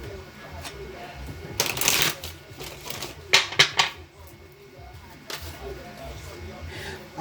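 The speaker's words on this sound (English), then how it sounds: "Do one more good shuffle on this." Oracle cards being shuffled by hand for an Isis oracle reading, several quick riffling bursts with pauses between, close and crisp, amid quiet background sound.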